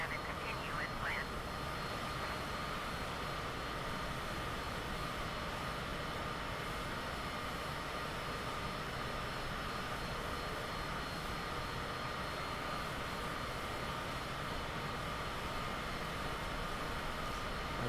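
Steady droning hum of a Cessna's single propeller engine inside a flight simulator game, holding a constant level throughout as voices talk over it.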